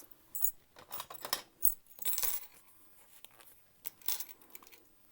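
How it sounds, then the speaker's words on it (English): Small metal zipper pulls clink and rattle in quick, uneven bursts while being fitted onto zipper tape for a sewn waistpack, a faint and close sound with no talking. "And then we'll add our 2 zipper pulls."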